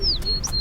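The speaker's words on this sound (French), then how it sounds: "Écoutez le chant des oiseaux." A bird in the Sologne countryside gives a few quick, clear chirps, close and fairly loud, over a soft outdoor background.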